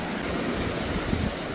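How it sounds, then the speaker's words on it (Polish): Large sea waves break along a stony shore, a continuous broad roar of surf mixed with wind buffeting the microphone, steady and fairly close. "Okropnie duże fale są."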